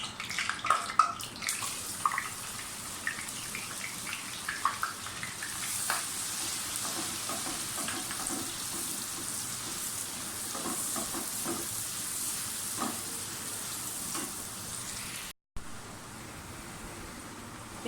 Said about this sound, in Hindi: प्याज फ्राई होते हैं